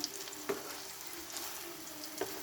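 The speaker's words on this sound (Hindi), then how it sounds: "चपली कबाब जो है एक साइड से हमारे कुक हो रहे हैं" Chicken chapli kababs fry in a pan, giving a steady, fairly quiet oily sizzle with soft crackles and a couple of brief pops, with no voices.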